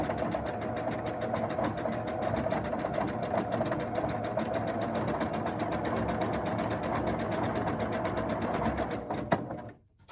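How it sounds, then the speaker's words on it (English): A sewing machine fitted with a 1/4 inch foot stitches a seam down one side of a quilt block. It gives a close, steady, fast whirring drone that runs unbroken for about nine seconds, then stops. "I'm going to go ahead and just sew down one side."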